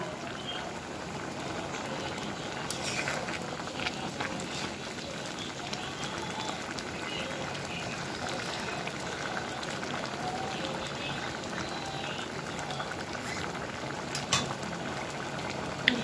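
Dal with bottle gourd simmers in a pot, a steady, faint bubbling and hissing that continues unbroken throughout, with occasional small pops.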